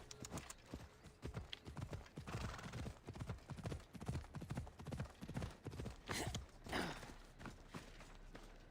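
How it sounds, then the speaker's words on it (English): Horse hooves in the video game Assassin's Creed Odyssey, a brisk steady clip-clop of a walking horse with a snort or whinny partway through. "I'm just gonna get the horse and bring it back down to you."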